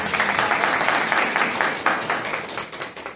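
Audience at a Spanish-language talk on mind and body, applauding in a lively burst of many hands that stays steady, then thins out toward the end, no voices over it.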